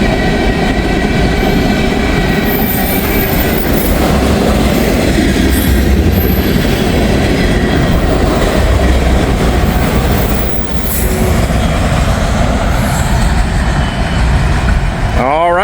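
A freight train rolls past nearby in Wyoming, a loud steady rumble of railcars with rhythmic wheel clatter and occasional squealing wheels, running continuously throughout.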